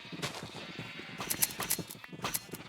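Sheep bleating in a Minecraft world running the FTB Interactions modpack while being sheared, several short bleats and clicky shearing hits over a steady background hum.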